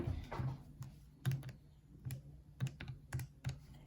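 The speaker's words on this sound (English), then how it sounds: "We're going to type that in." Numbers being typed on a computer keyboard, a short burst of about a dozen sharp clicks in uneven rhythm, close and fairly quiet with no talk.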